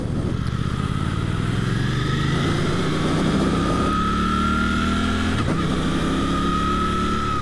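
A 2023 Suzuki GSX-8S motorcycle under way, its engine droning steadily and rising in pitch through the revs with quick-shifter gear changes marked by short dips, heard close alongside constant wind rush.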